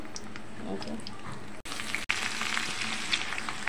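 Chopped garlic and whole chillies fry in hot oil with a crackling, spattering sizzle. It starts moderate, then jumps louder after two brief dropouts, and stays close and busy.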